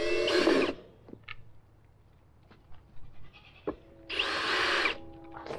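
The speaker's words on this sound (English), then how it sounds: "I'm gonna drill two holes in the bottom of them." A power drill drills two holes in two short bursts about four seconds apart, with quiet clicks and handling sounds in between.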